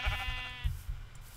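A Minecraft sheep gives a single short bleat, close and clear, over a low rumble with no speech.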